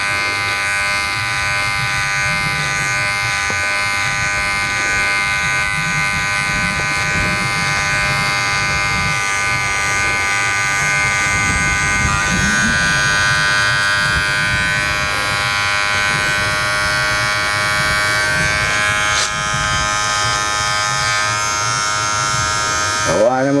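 Steady electric buzzing of hair clippers runs continuously throughout, with voices talking underneath at moderate level.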